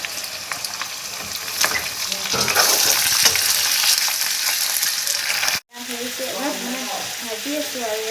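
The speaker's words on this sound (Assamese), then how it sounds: "ভাজি আছোঁ আৰু দিছোঁ" Goat meat and onions fry in a pan with a loud, steady sizzle and occasional stirring scrapes. After a brief break, a voice talks over a quieter sizzle.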